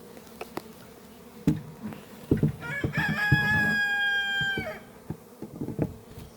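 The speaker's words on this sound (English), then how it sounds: "we'll go ahead and see if we can back up and see all these bees" Carniolan honeybees buzz around a hive during a package installation, a faint, continuous insect hum close by, with a rooster crowing in the background and scattered knocks from handling the equipment.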